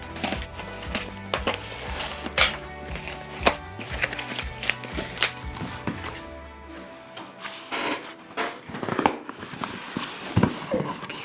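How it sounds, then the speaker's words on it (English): A knife slices open a cardboard package box for a portable power station, producing a run of close, irregular scratchy cuts and tearing rasps. "All right, got my knife. Let's cut this bad boy open."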